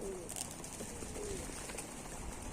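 Soft pigeon coos sound a couple of times at low volume over a steady background hiss.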